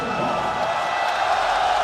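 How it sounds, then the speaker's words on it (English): Basketball crowd at a FIBA World Cup game between Serbia and Italy howls steadily as Nikola Jokic enters, a dense, sustained roar of the arena audience with no break across the moment. "You hear the howl from the crowd, and you know that's for one man."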